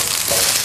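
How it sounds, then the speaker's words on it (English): Aubergines hitting a smoking-hot wok, a loud, dense, continuous sizzle of frying that lasts under a second, with no talk. "wok nice and hot, smoking, and then in with the aubergines"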